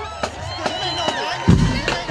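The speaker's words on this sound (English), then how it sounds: "Give them a round of applause" Crowd noise and cheering at a high school battle of the bands in Augusta, Georgia, with a rumbling swell of voices, sharp percussive hits at intervals, and a louder low-end surge near the end.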